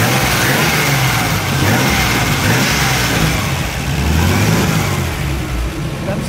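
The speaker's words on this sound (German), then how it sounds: "wenn wir Gas geben, die Maschine läuft." A loud 1936 Alvis Silver Eagle's supercharged 4.3-litre inline-six engine revving up and easing off, a rough, throaty roar that swells and dips throughout.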